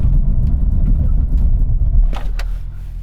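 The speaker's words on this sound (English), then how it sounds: "I'm going to do a full emergency stop from 60 miles an hour" A BMW M2 coupe rumbles loudly in the cabin while braking hard from 60 mph to a full emergency stop, the low road and engine noise tapering off with a couple of brief clicks near the end.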